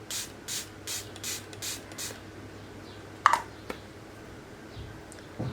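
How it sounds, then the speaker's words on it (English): Makeup setting spray hisses from a twist bottle in six quick, evenly spaced spritzes, followed by a couple of faint clicks from the bottle, close and soft. "you have to just keep far from your face and just spray it"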